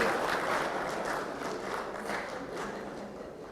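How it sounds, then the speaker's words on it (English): A crowd gives a sustained round of applause for a woman guest at a bank brokerage and investment services event, dense steady clapping filling the room for several seconds with no talk. "Give her a round of applause"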